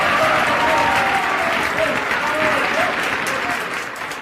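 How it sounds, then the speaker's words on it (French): An audience applauds at a radio mystery drama, sustained dense clapping that fades slightly toward the end, with voices audible underneath. "Mesdames, messieurs, vous avez raison d'applaudir"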